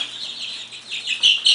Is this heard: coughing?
no